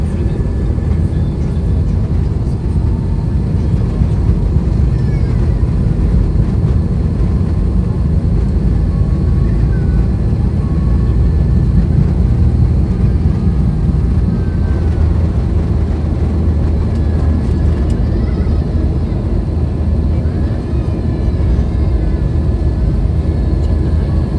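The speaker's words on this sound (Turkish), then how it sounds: "Şimdi havalanacağız." An airliner accelerates for takeoff on a flight from Vienna to Istanbul, a loud, steady engine roar and low rumble heard from inside the cabin without a break.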